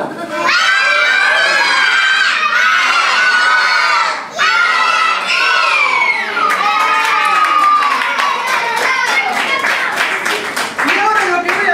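Crowd of children at a clown show shouting loudly together in unison, sustained cheering and yelling that fills the whole stretch, with some clapping toward the end.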